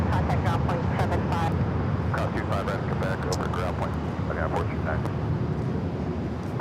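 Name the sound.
United Airlines Boeing 737-900ER taking off at LAX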